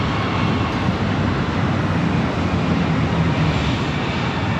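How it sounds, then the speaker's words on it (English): A Northwest Boeing 757-200 takes off for Detroit, its engines producing a loud, dense, continuous roar with deep rumble throughout, heard close and without talk. "Northwest 757 to 200. This is flight 802 taking off to Detroit."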